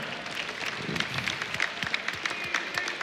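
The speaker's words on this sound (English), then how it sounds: "We're clapping as well." Clapping at an esports analyst desk during IEM Katowice 2015 League of Legends coverage, a modest, steady patter of several people's hands with scattered sharp claps, faint crowd noise underneath.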